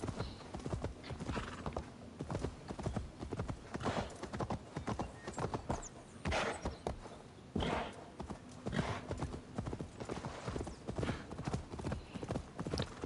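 A horse's hooves beat out a rapid, steady clip-clop rhythm throughout, with an occasional whinny over the continuous galloping, in the video game Assassin's Creed Valhalla.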